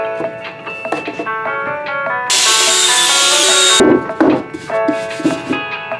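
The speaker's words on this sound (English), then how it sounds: "I brought it back to the bandsaw, which made it look much better" A bandsaw cuts wood in a workshop, a bright rushing hiss lasting a little over a second that rises over a background of ringing, tonal machine hum and clatter, close and loud.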